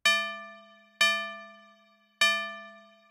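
A virtual Audible Instruments Resonator module set to a bright, glass- or metal-like material rings out three struck tones in turn, each with a sharp attack and a long, even, fading decay, clear and alone.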